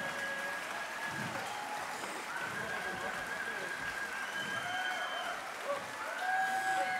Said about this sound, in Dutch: Mag ik de band eventjes een heel hard applaus geven?